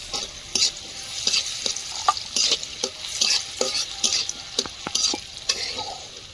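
Nuts and raisins frying in ghee in a wok, stirred briskly, with repeated rhythmic scraping strokes over a bright, steady sizzle, close and fairly loud.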